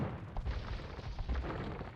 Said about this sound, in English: We have bombard cannons from both players.